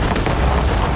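Ship mortars fire during a naval battle in Assassin's Creed Rogue, a loud, dense rumbling boom that fills the whole brief moment up close.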